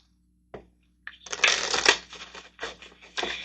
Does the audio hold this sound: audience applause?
no